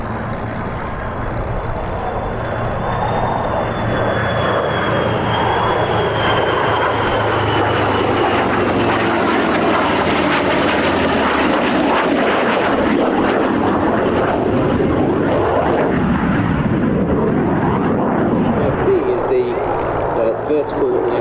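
A US Air Force F-35A fighter jet from the 495th Fighter Squadron at Lakenheath roars loudly over the Sywell Airshow, swelling into a sustained jet rumble as it passes, while a commentator talks over it.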